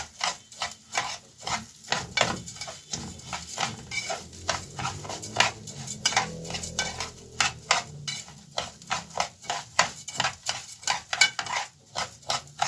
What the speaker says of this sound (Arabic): نفضل نقلب كده لحد ما الرز ياخد اللون كده ويتحمر كويس